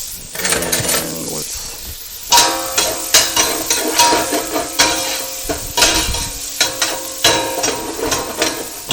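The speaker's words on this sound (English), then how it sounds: "Going to add our butter and our onions." Butter and onions sizzle in a pan on a stove over lowered flame, with a steady hiss under repeated clanks of a utensil stirring against the pan, close and loud.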